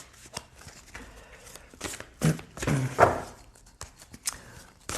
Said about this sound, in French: Je vais prendre l'oracle, le tarot des flammes jumelles, je vais prendre quelques cartes.